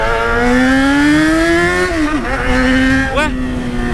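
A Yamaha XJ6 motorcycle engine revs steadily with a rising whine, then stumbles and misfires twice, the pitch dipping and recovering. The engine sounds loud and close, with no talk over it.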